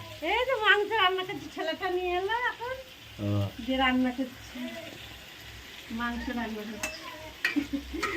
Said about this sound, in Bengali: আমাদের রান্না হচ্ছে চিকেন দেখতে পাচ্ছে চিকেন রান্না হচ্ছে